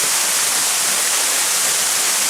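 The roughly 7-meter lower drop of Jolotundo waterfall produces a dense, continuous roar of falling water, loud and close, with no voices over it.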